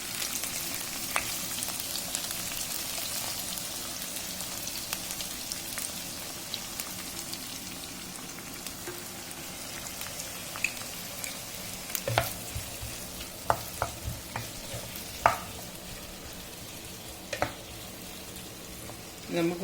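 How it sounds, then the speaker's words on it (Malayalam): Vegetables with square-cut onion and capsicum stir-frying in a pan for veg Manchurian as soy sauce goes in, a steady close sizzle and hiss with scattered clicks and scrapes of stirring through the middle and end. "സോയ സോസ് ഒഴിക്കാം നമുക്ക്."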